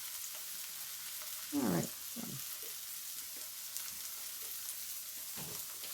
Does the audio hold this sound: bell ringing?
no